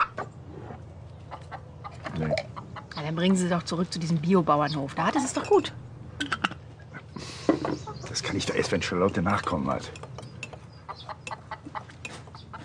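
A hen clucks in short, irregular bursts at close range, mixed in and around a conversation between people speaking German.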